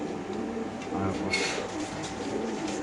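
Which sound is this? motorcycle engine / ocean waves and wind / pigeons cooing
pigeons cooing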